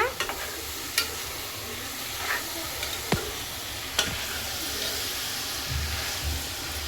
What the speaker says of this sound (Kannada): ಇವಾಗ ಚೆನ್ನಾಗಿ ನಮ್ಮಮ್ಮ ಕಲಿಸ್ಕೋತಾರೆ ಇದನ್ನು.